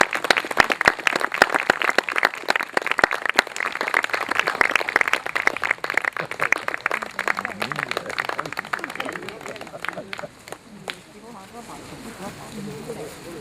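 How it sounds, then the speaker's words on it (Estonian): Audience applause for a men's choir at an outdoor men's song day in a park, dense steady clapping for about ten seconds before thinning out and fading. "Suur tänu meeskoorile, palun suur aplaus neile."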